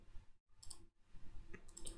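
A computer mouse clicks the submit button in a WordPress membership plugin dashboard: two soft, sharp clicks over a very quiet room.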